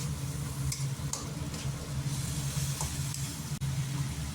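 Peels of tender bottle gourd frying in a pan with baby prawns give off a soft, steady sizzle and hiss, with faint scattered clinks.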